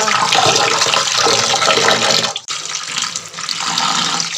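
Fish and vegetables washed together under running water, a steady loud gushing stream with a brief dip midway, no voices.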